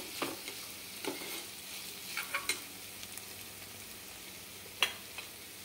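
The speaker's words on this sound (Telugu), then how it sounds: "అల్లం వెల్లుల్లి పేస్ట్ పచ్చివాసన పోయేంత వరకు 1 నిమిషం వేయించుకుందాము." Ginger garlic paste frying in a pan, a soft steady sizzle with scattered faint stirring scrapes and a sharper clink near the end.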